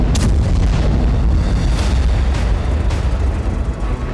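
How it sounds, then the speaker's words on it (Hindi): Heavy bombing explosions on the Ukraine–Russia front line, a loud, rumbling wash of booms with several sharper blasts standing out, continuous and with no talk. "फ्रंट लाइन पर जबरदस्त बमबारी हो रही"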